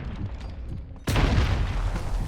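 A grenade detonates in the PC game Modern Warfare during multiplayer: low rumbling game noise, then one sudden loud blast that sets off a sustained roaring boom and rumble.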